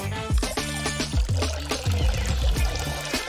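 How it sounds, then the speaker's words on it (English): A drink is poured into a container, with irregular splashy bursts and falling gurgles repeating close and loud for a few seconds, no voices. "I'll pour the drink into this container."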